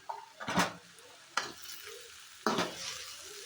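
Cauliflower frying in a covered pan is stirred in three distinct scraping strokes, each stroke giving a short burst of clatter over a faint, quiet sizzle.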